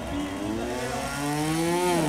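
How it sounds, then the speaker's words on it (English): Trials motorcycle engine revving hard during a competition section, a steady rising tone that climbs in pitch toward the end, close and loud with no talk over it. "The revs pick up, but Gironi Fajardo also has to use the sum"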